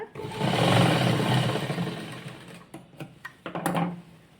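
A sewing machine stitches fabric for a child's skirt in a loud, fast, steady whir for about two seconds, then stops and is followed by a series of clicks and handling taps.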